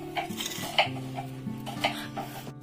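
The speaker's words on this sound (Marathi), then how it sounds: "पॅन मध्ये भाजणार आहे बाकीचे कांदा।" Onions roasting in a pan on a village wood-fired stove give a soft, steady sizzle, broken by light clinks and scrapes of a utensil against the pan, close up with no voices.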